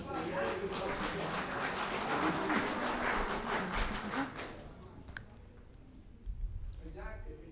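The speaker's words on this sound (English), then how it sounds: "we can't do that while everybody's clapping" Audience applause at a community meeting: dense clapping for about four seconds that fades out, then scattered taps and a voice starting to speak.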